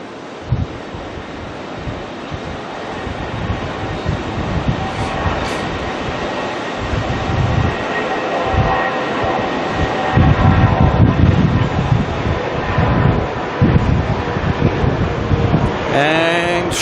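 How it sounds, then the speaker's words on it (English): Qantas jet airliner passing at Auckland Airport: a steady broad roar that builds and thickens toward the end, close and loud, with gusty wind rumble underneath. "shoom, there goes Qantas through the front of the frame"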